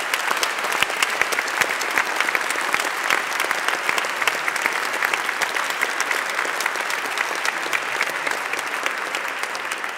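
Sustained audience applause fills a European Heritage Awards 2017 ceremony hall, a dense even patter of many hands clapping steadily without pause.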